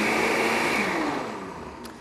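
A blender whirs loudly, mixing thick tofu sour cream made without added water, its motor droning steadily before easing down slightly toward the end.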